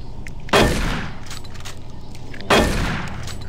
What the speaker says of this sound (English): So lucky I can shoot you through the vent.